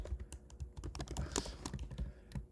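Rapid typing on a computer keyboard, a steady patter of close, crisp key clicks with uneven rhythm throughout.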